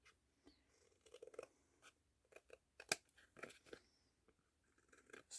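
Scissors trimming paper for a craft project, quiet close-up snips and soft crisp rustles in irregular bursts, with one sharper click, and no one talking.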